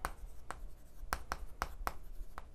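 Chalk or a marker taps and scratches on a board in a quick series of about seven short, crisp strokes, close and fairly faint, as a term is written during a lecture.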